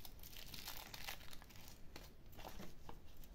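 Tissue paper crumpled and crinkled by hand while crafting a junk journal, close and continuous rustling with sharp crackles and small tearing bursts throughout, no talk.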